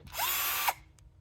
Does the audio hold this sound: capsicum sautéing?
no